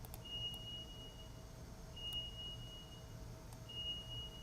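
A weather alert tone for an updated severe weather warning polygon sounds as three faint, steady electronic beeps spaced about every one and a half seconds over a quiet background hum.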